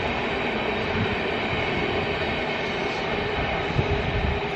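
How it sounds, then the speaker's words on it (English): A long train rolls past in Berlin, a continuous broad rumble of wheels on rail that stays steady and fairly close for the whole stretch, with no voices over it. "It's a long train."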